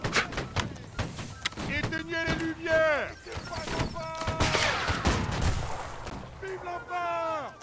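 Volleys of musket-style gunfire in a multiplayer video game, with several sharp cracks and booms mixed under frequent excited talking from players.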